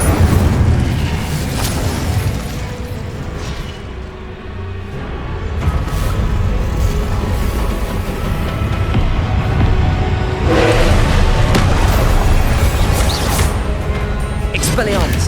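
Spell blasts from Incendio and Confringo in the Hogwarts Legacy video game, with repeated booming bursts and crackling impacts over dense continuous game noise, while spell names are shouted throughout.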